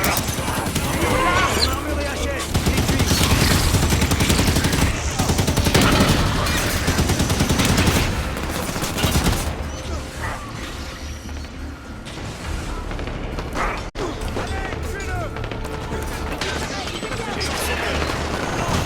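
Gunfire in the video game Halo 5: Guardians comes as dense bursts of automatic fire and clanking mechanisms, heaviest early and then easing to sparser shots, with voices talking over the combat.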